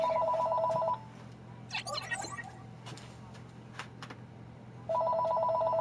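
A telephone rings in two bursts of a warbling electronic trill, one at the start and another near the end, separated by a quieter stretch with faint handling noises.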